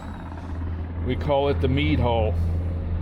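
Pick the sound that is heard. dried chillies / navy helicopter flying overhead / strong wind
navy helicopter flying overhead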